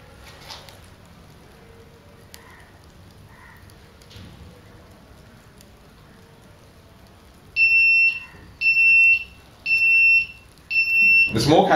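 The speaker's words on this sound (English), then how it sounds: "The smoke has been detected by the smoke sensors, which is indicated by the piezo buzzer." A piezo buzzer smoke alarm, part of a student-built smoke alarm and evacuation system, is triggered by artificial smoke. After a quiet stretch it gives four loud, shrill beeps in a steady rhythm.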